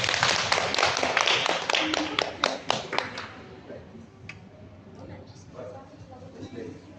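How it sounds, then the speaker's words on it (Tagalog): A small church congregation claps, loud and dense at first, then trailing off into scattered claps, with a voice speaking as it fades. "So, malakas na palakpak."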